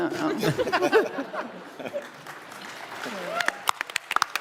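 Comic-Con panel audience for House of the Dragon breaks into scattered clapping mixed with chuckles and chatter, voices close over it early, then sharper individual claps pop through near the end.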